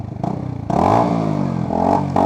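A Sinnis Hoodlum motorcycle fitted with a cheap aftermarket exhaust idles with a lumpy putter, then is revved up into a loud, rising drone that dips and swells again, close by.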